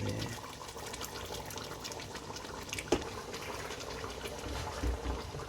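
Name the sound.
water poured into a pot of lamb and potato curry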